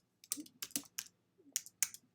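Keys clatter on a computer keyboard while a spot colour name is entered in graphic design software, in several quick close bursts of clicks separated by short pauses.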